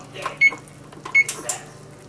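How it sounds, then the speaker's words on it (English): An oven being set to preheat gives two short, high electronic beeps less than a second apart, each with a faint button click, in a quiet kitchen. "I preheat my oven."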